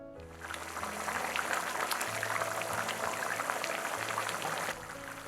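Fish head and bones with tomato juice and water simmer in a covered clay pot, giving a steady close bubbling with soft crackle that holds evenly throughout, no talk.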